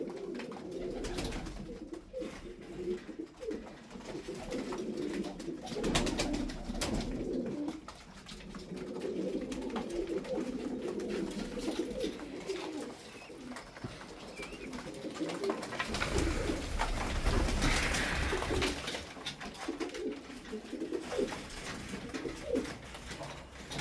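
Sport tippler pigeons cooing near at hand, repeated soft throaty coos overlapping in loose bursts over a constant murmur of background noise, with occasional rustles and knocks.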